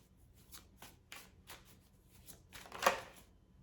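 Tarot cards riffled and handled during a reading while decks are switched, a run of soft papery shuffles building to one sharper slap of a card near the end, close and quiet with no talk.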